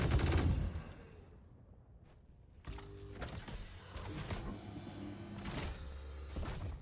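Ship weapons in Star Citizen fire in sharp bursts with a gap in between, a loud volley opening, then a longer stretch of rapid, mechanical shots.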